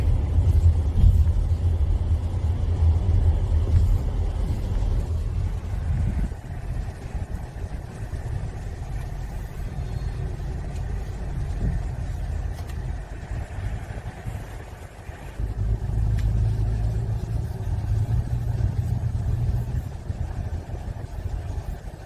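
A new car being driven, its engine giving a steady low rumble and road noise throughout, a bit louder near the start and again toward the end, with no talking.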